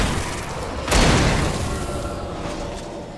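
In the video game Alan Wake, a cannon fires a single deep boom over a constant background hum, then slowly fades away.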